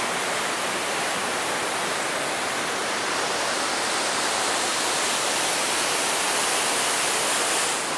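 River water rushes through a narrow canyon on the Superior Hiking Trail near Lake Superior, a loud, dense, unbroken roar of flowing water that stays constant and close, with no voices.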